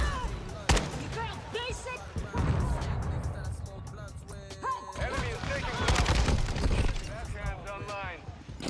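Rapid bursts of automatic gunfire from a hard-recoiling gun in Call of Duty: Modern Warfare II crackle in short volleys, mixed with game effects, while someone talks over the action.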